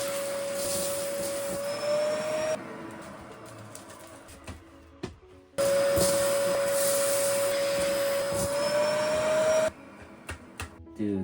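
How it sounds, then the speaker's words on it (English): A vacuum cleaner drones loudly with a steady whine inside an old RV, cuts out briefly, then roars back on at full strength before stopping near the end. "I'm gonna open this while the vacuum is going"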